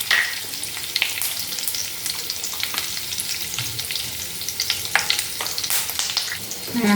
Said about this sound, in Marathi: तेल छान असं गरम झालं आहे तर आपण त्याच्यामध्ये छान कढीपत्ता टाकूया, मोहरी टाकूया, जिरं